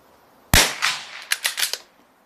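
Shots from a Ruger Precision Rimfire .22 rifle at a shooting range: one sharp crack followed by a quick string of lighter reports, close and loud against a quiet background.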